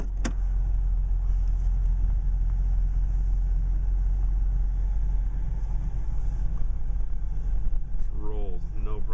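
A 40+ year old Chrysler car engine running after a cold start, a loud steady low rumble throughout, close up, with a brief voice near the end.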